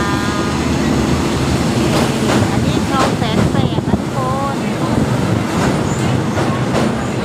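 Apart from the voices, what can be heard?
train running on the railway from Hua Lamphong to Bang Sue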